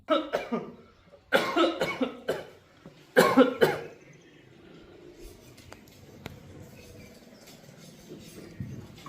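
Several harsh coughs from a man with a two-month cough, in bursts near the start, close and loud, followed by quieter background rustling and faint clicks.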